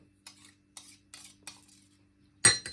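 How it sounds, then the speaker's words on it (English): Fresh ginger scraped with a metal utensil: four short, light scraping strokes at a steady rhythm, close and fairly quiet, then a sharper louder clatter at the end, with no talking. "Now, scrape out that ginger"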